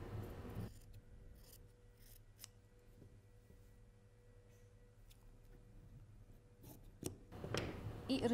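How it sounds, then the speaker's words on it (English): Scissors snip away the excess fabric from a sewn dart on a dropped-shoulder blouse, a few soft rasping cuts spread over a quiet stretch, followed by louder rustling of handled cloth at the end. "I need to cut the extra piece from the dart."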